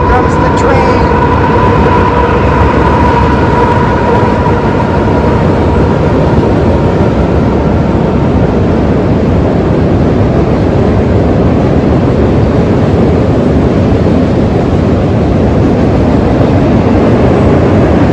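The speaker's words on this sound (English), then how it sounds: "Here comes the train." A loud, steady rumble of a passing train fills the whole stretch with constant heavy noise, and a faint tonal whine fades early on.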